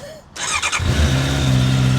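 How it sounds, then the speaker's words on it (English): A Honda CBR650R motorcycle cold starts in neutral: a brief starter whir, then the engine catches and settles into a loud, steady, close idle. "So let's give that one a cold start, Emma."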